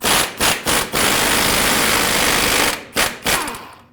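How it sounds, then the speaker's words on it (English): A 21mm socket on a power tool spins off the outer tie rod stud nut at the steering knuckle of a 2009-2010 Dodge Ram 1500: a loud, steady mechanical rattle broken by short stuttering bursts at the start and end. "With a 21mm socket, remove the mounting nut that holds the outer tie rod stud on the knuckle."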